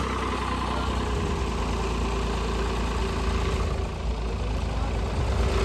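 A heavy tractor engine rumbles steadily at idle, a continuous low drone with a slight rattle, close by and constant throughout.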